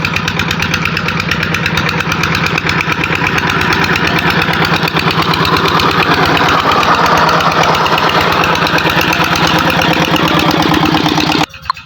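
A diesel engine running a water pump to irrigate potato fields runs steadily at close range, a loud continuous chugging idle with even rhythm that cuts off abruptly near the end.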